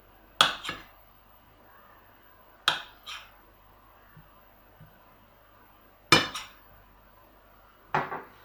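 A knife cuts tofu into large cubes on a hard board, giving four sharp, well-spaced clacks with short ringing tails against a quiet kitchen background.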